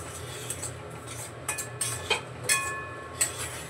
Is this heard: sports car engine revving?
no